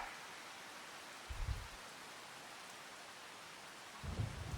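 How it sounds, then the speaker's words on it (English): Rain and thunder in the farming video game Farming Simulator 25: a steady hiss of rainfall throughout, with two low rumbling thunder rolls, one near the middle and one toward the end. "Stop the rain."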